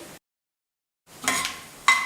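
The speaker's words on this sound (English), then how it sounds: "now you can see and also hear the fenugreek start to sizzle away" Fenugreek seeds sizzle in a pan for a pumpkin and spinach curry, a soft crackling hiss that starts after a short silence and runs about a second, close by with a brief utensil scrape near the end.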